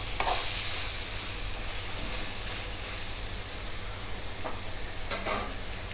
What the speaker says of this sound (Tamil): தக்காளி நல்லா வேகட்டும்.